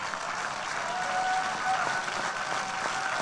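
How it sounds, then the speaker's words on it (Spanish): Church congregation applauding during a sermon, steady mid-distance clapping from a sizable group, moderately quiet and continuous throughout. "Por favor, denle un aplauso."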